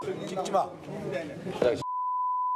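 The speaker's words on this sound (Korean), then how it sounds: "저희가 논란이 되는 그 부분은 삐소리를 했는데" A steady censorship bleep over a swear word in a Korean broadcast, a single pure tone that cuts in right after brief speech and holds alone until the end.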